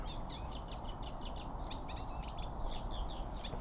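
A reed warbler delivers its long, noisy song in a constant run of scratchy, repeated phrases, fairly faint and set against a steady background rumble with no pauses.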